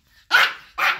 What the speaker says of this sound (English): You're barking at me because I know why.